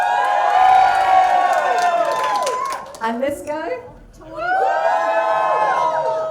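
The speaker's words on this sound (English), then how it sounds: "So cheer for the one you like." A studio audience at a raw comedy talent show cheers and whoops loudly, with scattered shouts and some clapping, fading briefly before surging again; a host speaks over the crowd noise.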